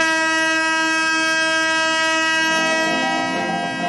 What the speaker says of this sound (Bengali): টয় ট্রেনে ফের শুরু হলো জঙ্গল সাফারি